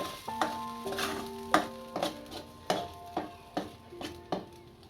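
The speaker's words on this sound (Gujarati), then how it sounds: "હવે આપણે જે ગ્રેવી બનાવી હતી નાખશું આને ઉકળવા દેશું" Gravy for a spinach (palak) sabzi cooking in a pan, with a steady low sizzle and bubbling broken by repeated sharp scraping and clinking strokes of a spoon against the pan, fairly close and with no talking.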